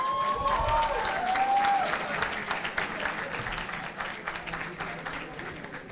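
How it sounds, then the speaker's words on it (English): A crowd applauds at a stage promotion event with Akshay Kumar, Nimrat Kaur and Raja Menon, the dense clapping steady and loud throughout, with a brief whistle-like tone early on and some voices underneath. "Can we have a huge round of applause?"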